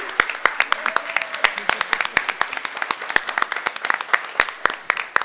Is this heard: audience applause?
yes